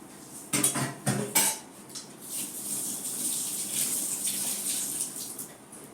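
Hands washed under running water outdoors, starting with a few sharp clanks of a pot or vessel, then a steady close splashing stream that continues to the end.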